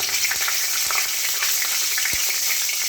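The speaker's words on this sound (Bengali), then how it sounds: "সবার প্রথমে আমি শুকনো লঙ্কাটা দিয়ে দিলাম" Dried red chillies hit hot oil for a tempering, giving a loud, even crackling sizzle throughout with a few sharp low pops and utensil knocks.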